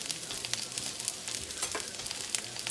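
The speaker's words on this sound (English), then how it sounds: "Then you add the broth. And you let it bubble for a minute." Broth bubbling and sizzling in a pan while flounder piccata is cooked, with a steady close crackle and small irregular pops, fairly quiet and with no voices.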